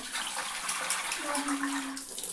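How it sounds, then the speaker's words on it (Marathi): Tap water running steadily while rice is washed, a continuous broad splashing rush with faint swirling changes, close and alone. "नळाच्याच पाण्याने मी तांदूळ धुते"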